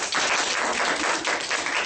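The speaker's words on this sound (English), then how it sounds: "Give them an applause." Audience applause at a fourth-grade primary school English project diploma ceremony, a steady dense wash of clapping filling the whole stretch, loud and continuous with no voices over it.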